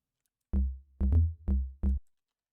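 Four short, deep tech house synth bass notes pulse in a syncopated pattern, loud and clean with silence between them.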